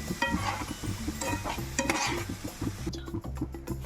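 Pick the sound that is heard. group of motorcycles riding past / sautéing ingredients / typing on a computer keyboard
sautéing ingredients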